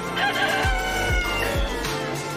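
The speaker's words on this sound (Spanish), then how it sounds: "El gallo con la gallina." A rooster crows loudly nearby, followed by clucking from hens, against a steady background hum.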